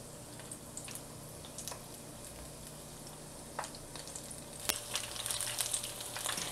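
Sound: bhajia (pakora) deep frying in oil

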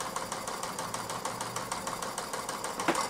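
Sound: Mamod SP8 James Watt stationary model steam engine running

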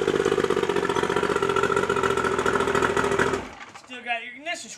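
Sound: boat engine running until ignition shuts off

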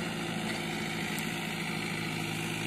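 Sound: Ace 450 DI tractor engine idling

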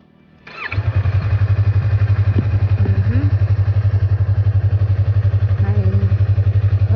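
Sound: motorcycle engine starting and idling

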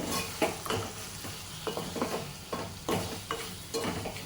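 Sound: wild bitter gourd curry being stirred and cooked in a pan

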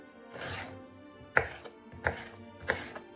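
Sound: chopping pineapple for pickle

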